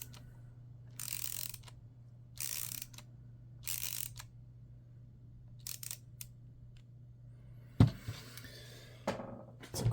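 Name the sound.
Wera Kraftform Kompakt ratchet clicking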